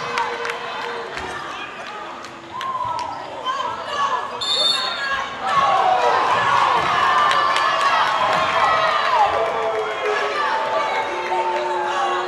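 Crowd noise at a boys high school basketball game, Heritage versus Flowery Branch, swelling into loud disapproval of a referee's call, with ball bounces, sneaker squeaks and scattered shouts filling the gym.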